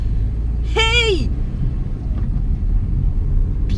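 A steady low rumble fills the interior of a moving car, continuous and fairly loud throughout. A short vocal exclamation cuts in near the start.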